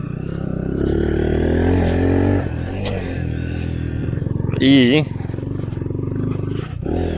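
A Bajaj Pulsar NS 125 motorcycle rides along with a steady, close engine drone, the sound continuous under a rider's occasional talk.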